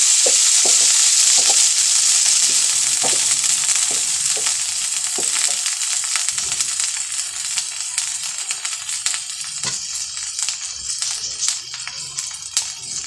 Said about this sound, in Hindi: इसको पनीर को फ्राई कर लेंगे लहसुन में